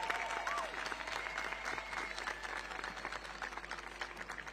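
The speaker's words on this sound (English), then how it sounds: "can we get a round of applause for the beautiful Akins Choir and the Akins Band?" Audience at a high school graduation ceremony applauding the choir and band, dense clapping from a large crowd heard at a distance in a big hall, steady and sustained with a faint hum underneath.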